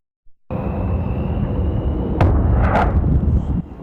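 A loud, sustained rumbling blast erupts after a brief silence, with sharper cracking pops partway through, booming and heavy throughout, at an industrial fire with huge flames and thick smoke in Midland.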